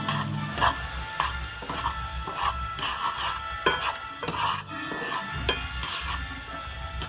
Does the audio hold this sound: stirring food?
yes